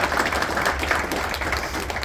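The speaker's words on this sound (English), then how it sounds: "So big round of applause to the parents and families." Steady applause from a signing-day audience for the parents and families of football players, a dense continuous patter of many hands filling the room at moderate level, with no break.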